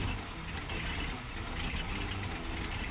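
A carbureted car engine with fouled spark plugs idles roughly on a cold day, its low uneven rumble steady and close as it struggles and nearly stalls.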